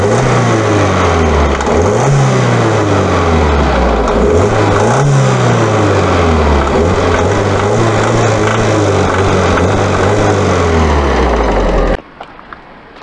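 An Audi TT engine runs continuously, loud and close, with its drone rising and falling in a couple of revs before cutting off abruptly near the end.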